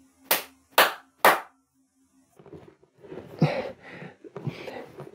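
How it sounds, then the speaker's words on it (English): Three quick hand claps recorded in a bedroom, close and crisp with short decay, followed by quieter rustling and muffled movement sounds. "This is what it sounds like recording in a bedroom."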